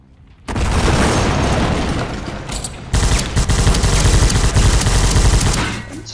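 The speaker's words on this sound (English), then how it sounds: "Let me just throw this grenade over here" A grenade goes off in the World War Heroes shooter during a team deathmatch, a loud sustained blast roar followed by a second heavy burst of explosive rumble and crackling gunfire lasting several seconds.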